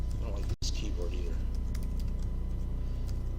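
Keys clatter on a computer keyboard in a quiet meeting room, quick soft taps going on steadily at close range with a brief break early on.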